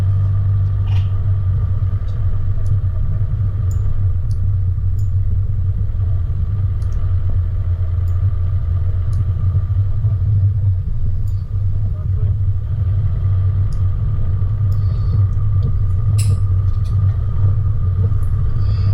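A car drives steadily along a bush track on the Walhalla to Jamieson route, its engine a constant low rumble for the whole stretch, with faint sounds from inside the cabin and no talk.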